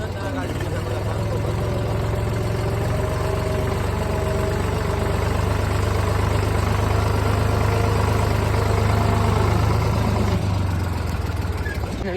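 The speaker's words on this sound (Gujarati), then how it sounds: "દીપા ભાઈ ટ્રેક્ટર લઈને" A tractor engine idles loudly and steadily, a constant low rumble throughout with faint talk underneath.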